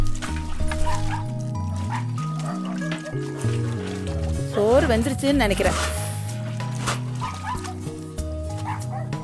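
Street dogs bark, yip and whimper in quick overlapping bursts, close by, mixed with music and a person speaking.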